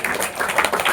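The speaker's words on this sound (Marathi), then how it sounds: "टाळ्या वाजवा त्याच्यासाठी" Children clap together in a short burst of quick, bright claps, loud and close, lasting under a second.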